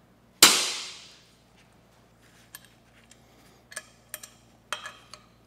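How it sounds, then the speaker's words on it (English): A single sharp metallic strike of a hammer on a transfer punch marks a hole center on a hay mower part, ringing out loud and close, followed by a few fainter clinks and handling taps. "So I've got a transfer punch and we'll mark the center."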